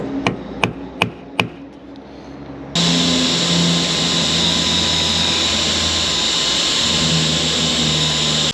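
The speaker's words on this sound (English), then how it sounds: "so we need to drill a new hole for it" Several sharp taps, then a loud, steady high-pitched whine of a power drill boring through metal, running close and continuous to the end.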